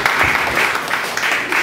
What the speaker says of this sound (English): Let's give God a clap of praise for that.